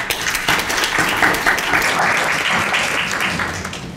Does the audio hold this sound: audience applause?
yes